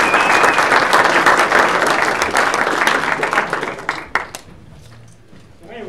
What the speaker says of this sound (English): So a big round of applause for Dave for opening up.